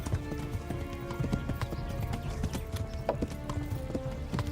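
In the medieval video game Kingdom Come: Deliverance, a horse gallops with a fast, steady run of clip-clop hoofbeats, loud and close throughout, with a brief whinny-like tone mixed in.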